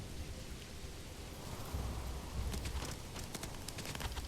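Arrows rain down in a volley during a Manor Lords battle, heard as a steady wash of pattering, drizzle-like hits with scattered sharper impacts and low rumble, moderately loud throughout.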